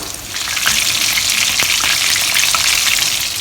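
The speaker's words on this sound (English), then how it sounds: "You just want it to be a little darker in color, hence I'm frying it a little bit more." Stuffed tofu puffs filled with meat deep-frying in hot oil, a steady loud sizzle and crackle with a few sharper pops, close by and without talk.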